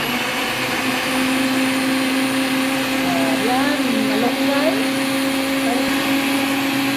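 A blender mixing fruit roars steadily the whole time, a loud continuous motor whir with a voice speaking briefly over it.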